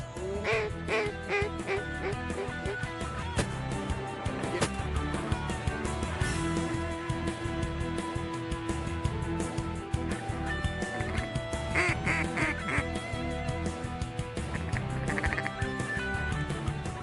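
Many ducks quack in a busy, overlapping chorus in Issaquena County, Mississippi, some close and loud, others farther off, continuing without pause.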